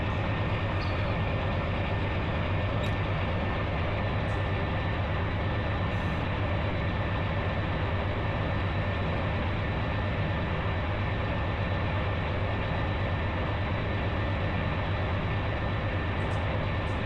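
A Santa Fe C44-9W diesel locomotive in the Run 8 train simulator game drones with a steady, unchanging engine rumble and whine, constant and even throughout, with a few faint high clicks and no voices.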